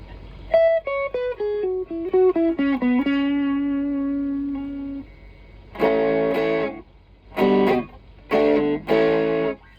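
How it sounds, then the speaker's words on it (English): An electric guitar through a Boss Blues Driver overdrive pedal, all knobs at noon, with warm overdrive, plays a descending run of notes into a sustained tone, then several strummed chords in short bursts. "Boss Blues driver. Let's hear how it sounds by itself."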